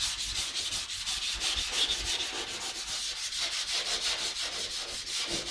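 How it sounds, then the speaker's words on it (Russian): A car fender is wet-sanded by hand with sandpaper, a continuous rhythmic rasping of quick back-and-forth strokes, close and steady throughout. "отшкурить до такого ровного состояния, аккуратненько. Вот внутренние углы, крест-накрест."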